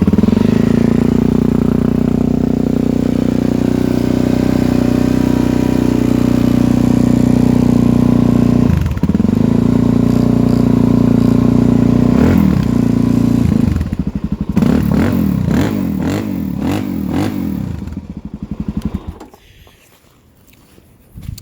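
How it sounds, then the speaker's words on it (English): A Suzuki DRZ400SM motorcycle engine starts and runs at idle, a steady close thumping with a few throttle blips near the end before it cuts off. "I can fire them up for you real quick so you can hear them."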